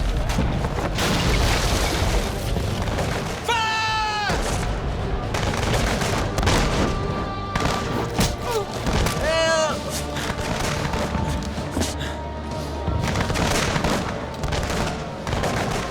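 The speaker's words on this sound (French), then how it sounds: "Durant 15 longues minutes, des tirs nourris et continus ravagent l'équipage anglais." Sustained volleys of musket fire in an 1805 Trafalgar naval battle, dense and continuous cracks and booms rolling throughout, with shouting voices and a brief rising whistle heard over the din.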